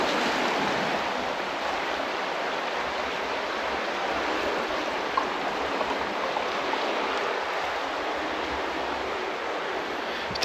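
Tidal bore surge, the Aegir, pushing up the River Trent in September as a low bow-shaped wave breaking along the far bank, a steady broadband rush of moving water holding even throughout, without voices.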